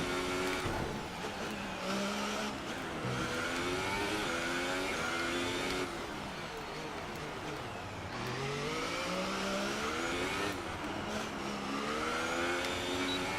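A Formula 1 race car engine in the F1 2018 video game whines through corners, its pitch repeatedly rising and dropping with gear changes and throttle lifts, loud and continuous with no talking.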